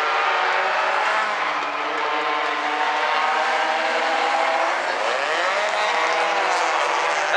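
Race cars roar around a speedway oval at South Sound Speedway during a Bumblebee A-Main, a loud, sustained engine drone with pitch sweeps as cars pass close by, cars running side by side.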